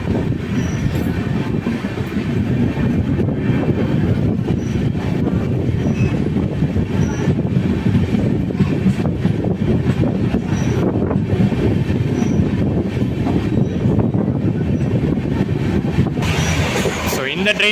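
The Tuticorin-Mysuru Express rumbles steadily along the rails in India, loud and close, with continuous wheel noise and occasional squeals, a voice talking underneath.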